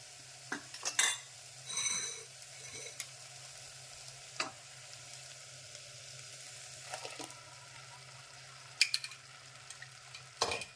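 Ground masala paste added to vegetables frying in oil for a vegetable kurma, giving a soft steady sizzle with a few sharp spoon clinks and scraping stirs against the pan, close and quiet, no speech.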